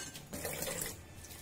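Water rushes steadily as a pot of boiled corn kernels is drained for masala corn chaat, a broad splashing stream that swells after a brief start and then tapers slightly, with no talking.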